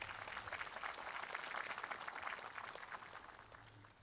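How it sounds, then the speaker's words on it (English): Audience applause at a Memorial Day ceremony, a steady, moderately distant round of clapping from a crowd that holds evenly and eases off slightly at the end. "Please give her a big hand of applause."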